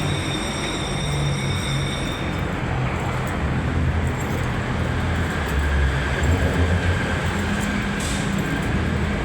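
An MRT train at Ortigas Station in Manila gives a steady roar of rolling wheels and broadband rumble with a faint high whine, close and continuous, blending with surrounding city traffic.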